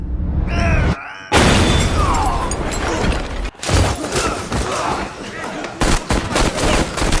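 Film scene with a grenade thrown into a room: a close, loud blast followed by sustained roaring debris and crackling gunfire-like bursts, with brief dropouts between cuts and some voices mixed in.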